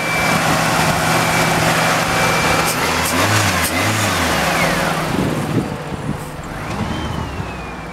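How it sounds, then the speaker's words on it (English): The 2.4-liter four-cylinder engine of a 2003 Mitsubishi Galant runs steadily close by, a continuous broad hum and rumble that lasts the whole stretch with no speech. "2003 Mitsubishi Galant, 4-cylinder,"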